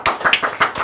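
A few people clap briefly at a talk show, a sparse and quick patter of hand claps lasting under a second, close and fairly loud.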